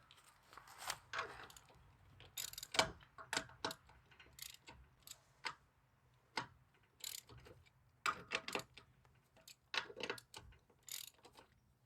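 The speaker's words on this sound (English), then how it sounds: "I'm using my Craftsman ratchet here" A Craftsman ratchet loosens lug nuts on a car wheel during a flat tire change, giving bursts of sharp, rapid clicking pawl ticks in irregular runs across the clip, close and alone.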